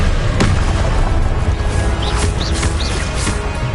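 A Confringo blasting spell goes off with a sharp, loud burst early on. It is followed by a rumbling, noisy tail with a few brief high chirps.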